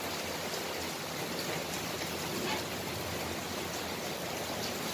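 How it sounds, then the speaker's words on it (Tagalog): Heavy tropical downpour roars in a continuous, even wash of rain noise, loud and unbroken with no voices over it. "Narinig yung mga katak ng ulan."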